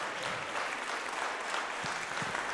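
Steady, dense audience applause fills a children's folk music and folk dance festival in Üröm. The clapping stays continuous and even throughout, with no voices standing out.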